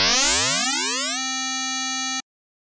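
An FM synthesizer tone sweeps upward in pitch for about a second, then holds steady before cutting off sharply, bright and loud with a rich stack of harmonics, alone.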